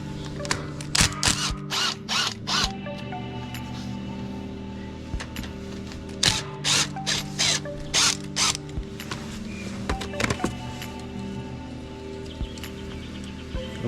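A ratchet works loose the carburetor assembly bolts on a Toro/MTD rear-engine mower, with several rapid clicking bursts in close-up, separated by pauses and a low steady hum underneath.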